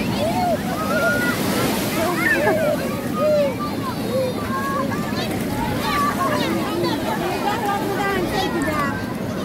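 Sea waves wash onto a beach at dusk in a steady, rushing surf with wind buffeting the microphone, while excited voices talk and call out over it throughout.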